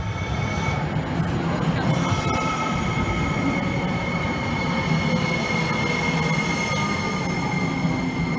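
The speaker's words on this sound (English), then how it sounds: "So we just made it on the metro train." A Minneapolis metro train rolls toward the Mall of America, with a steady close rumble of wheels on rail and long, thin wheel squeals whining above it the whole time.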